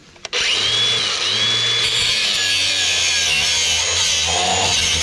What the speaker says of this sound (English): I tried cutting that bolt off, and the cutoff wheel just isn't a big enough diameter to get up in there